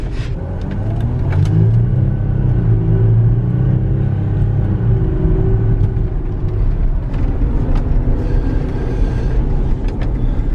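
A Volkswagen Touareg TDI diesel accelerates from inside the cabin, a loud steady low rumble with rising engine tone and occasional clicks, no voices.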